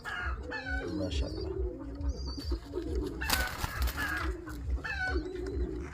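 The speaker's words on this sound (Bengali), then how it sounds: "এই যে পুরো কবুতরটা দেখেন" Several pigeons, a mother and son pair among them, coo in low rolling bursts close by, with a brief noisy rustle midway and soft background clucking.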